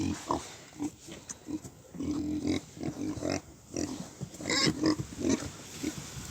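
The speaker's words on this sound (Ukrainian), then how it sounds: "Зараз буду випускати свинок на прогулянку." Vietnamese pigs grunt close by in a steady stream of short, snuffling grunts and snorts, with no talking.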